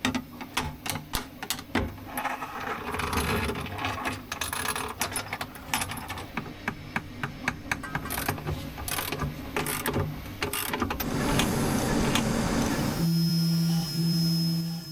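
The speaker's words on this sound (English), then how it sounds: "I used a CNC router to process the main structures of the inner and outer rings from a 20mm thick polyoxymethylene plastic plate." A CNC router cutting a 20 mm thick polyoxymethylene plastic plate into inner and outer rings for an RC excavator's slewing mechanism: dense clattering clicks and rattles, then a steady loud droning hum near the end.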